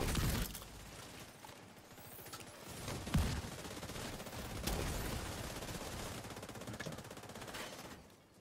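Dense video game gunfire from a shooter with red-shielded enemies, rattling in rapid automatic bursts through most of the stretch, with a louder crack near the three-second mark and steady fire continuing to the end.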